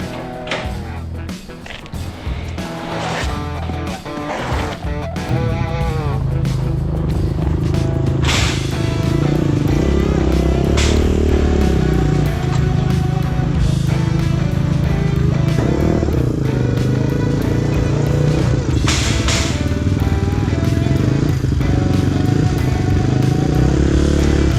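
A 2008 Honda TRX 450ER ATV engine runs loud and close, its revs rising and falling over a steady, continuous roar with occasional mechanical clatter.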